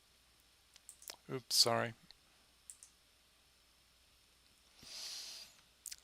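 A computer mouse clicks sharply and close several times, in short isolated taps spread across the moment, while a person briefly speaks between them.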